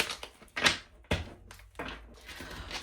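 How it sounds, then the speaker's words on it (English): Crisp papery riffling and soft slaps of tarot cards being shuffled, several bursts close by with brief pauses between, no talking. "We'll do one more shuffle."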